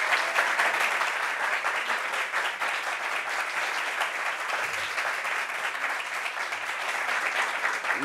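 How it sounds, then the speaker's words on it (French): A crowd at a staged professional-meeting show applauds a guest, producing a continuous, even patter of many hands clapping throughout, moderately loud and unbroken, with no voices on top. "Applaudissements pour Franck-Olivier."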